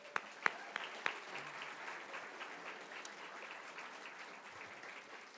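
An audience gives sustained applause for Coach Ed Eyestone, a running coach and Olympian, with a few sharp close claps at the start and then even, moderately faint clapping.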